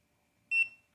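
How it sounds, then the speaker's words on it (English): A single short electronic beep from a Difeisi P500 power strip, high-pitched and clear in quiet surroundings, followed by a faint click. "Then you'll hear another beep here in a second."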